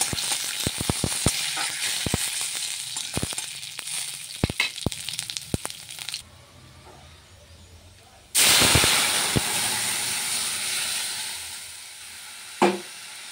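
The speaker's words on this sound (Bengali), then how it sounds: "তো দেখো এখানে আমার তেল গরম হয়ে গেছে, আমি ওপরে পাঁচ ফোড়ন, শুকনো লঙ্কা, তেজপাতা সব ছেড়ে দিলাম।" Panch phoron, dry red chillies and bay leaves hit hot oil for dal, with crackling pops and clicks, a quieter lull, then a sudden loud sustained hiss that slowly eases off.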